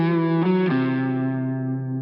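Distorted electric guitar notes sustain over a Lydian-mode backing track, a couple of bends or note changes early then a long held tone fading slightly, heavy with effects and slight echo, no voices.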